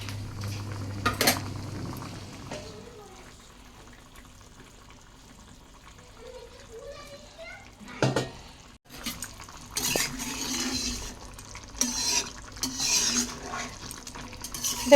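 Metal clatter as a lid goes onto a pot of fish curry simmering in milk and water, with a bright clank and a few scrapes and knocks of utensils around a low bubbling, close by.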